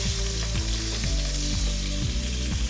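Garlic and chicken pieces fry in a hot pan with a loud, steady sizzle, broken by rhythmic low scraping pulses roughly every half second as the food is moved around.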